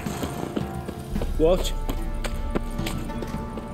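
Horse hooves clip-clop on the ground in The Witcher 3, a light, fairly steady patter of steps heard under game music, ambient noise and a man's brief spoken remark.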